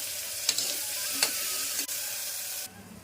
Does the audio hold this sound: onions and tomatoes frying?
yes